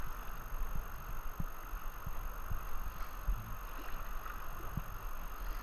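Kayak paddling on moving river water, a steady wash of flowing current with soft intermittent paddle strokes and gurgles, fairly quiet and continuous with no voices.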